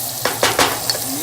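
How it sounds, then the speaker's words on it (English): Frozen mixed vegetables hit a pan with onions and ginger, sizzling steadily while a spoon scrapes and clinks against the pan in a few quick stirring strokes, close and loud. "Now add the frozen mixed vegetables and keep stirring it on"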